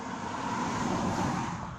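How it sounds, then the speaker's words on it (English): Cars pass on a busy road, a continuous broadband traffic roar that swells and fades gently as vehicles go by, steady and fairly close, with no voices. "very busy road, sorry"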